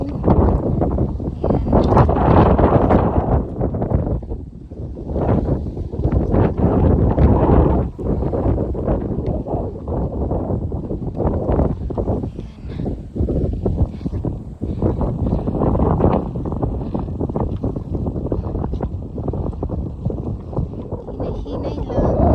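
Wind gusts buffet the microphone on an overcast hiking trail, producing loud, uneven rumbling bursts that rise and fall for the whole stretch.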